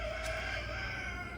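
A rooster named Laddie crows back at another rooster from a distance, a faint drawn-out call over steady outdoor background noise.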